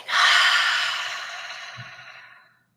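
A single long, breathy exhale after a deep in-breath, strong at first and tapering off slowly over a couple of seconds, close and on its own without any talking.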